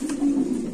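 A single low, steady coo from a pair of fancy pigeons sounds close and fairly loud, a short sustained hum alone without talk.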